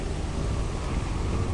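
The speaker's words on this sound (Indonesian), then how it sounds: "Guntur kemana-mana ya." Thunder rumbling in the video game Lethal Company, a steady low, dense roar that fills the whole moment with no clear breaks.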